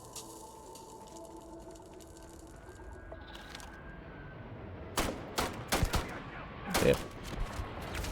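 Turrets fire in Starfield, a few sharp sharp bursts of gunfire cracking out in the second half of the clip, loud over a low ambient hum, with a brief spoken word.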